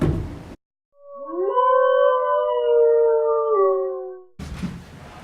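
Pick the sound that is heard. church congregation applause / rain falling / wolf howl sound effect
wolf howl sound effect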